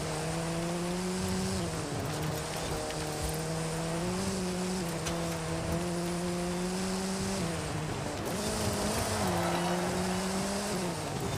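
A Peugeot driven in Forza Horizon 5 during a racing championship, its engine drone holding a steady pitch that shifts with gear changes and throttle, loud and continuous throughout.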